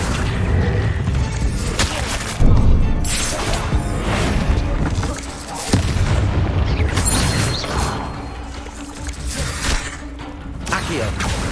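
Repeated spell explosions in Hogwarts Legacy, a string of booming blasts and crackling bursts between cast incantations, loud and busy throughout with a voice calling out spell names over them.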